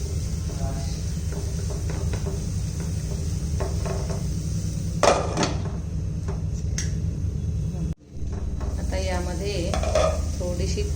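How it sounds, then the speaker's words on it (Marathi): A spoon stirs potato curry (batata rassa bhaji) in a pan, steady scraping and clinking close by over a low background hum, with a sharper clatter midway and a brief pause near the end. "हे आता सर्व हलवून घ्यायचं आहे"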